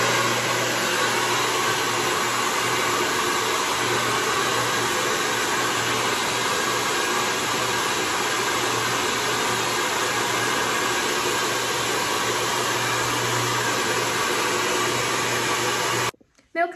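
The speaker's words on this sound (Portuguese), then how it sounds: "Esse aqui é meu secador e eu vou secar rapidinho" A hair dryer blows continuously at a loud, steady pitch for a long stretch, then cuts off abruptly near the end.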